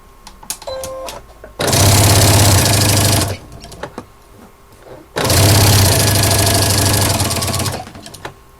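A sewing machine stitches a fabric cover for a notebook or agenda in two loud bursts of rapid, close-up whirring, each lasting a couple of seconds, with quiet handling noises in between.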